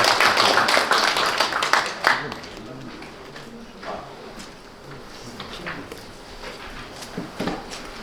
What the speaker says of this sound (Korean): 큰 박수 부탁드립니다.